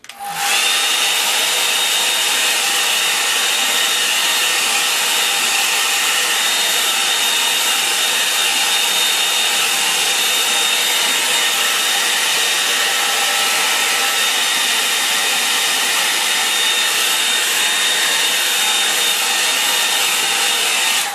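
Hair dryer drying a watercolour painting of farm buildings, a loud, close, unbroken rushing hiss with a steady motor tone that holds without pause.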